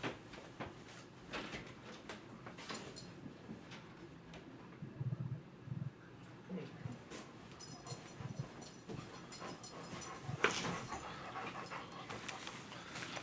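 A dog pants steadily nearby with occasional soft whimpers, a continuous breathy rhythm against low background rumble in a room.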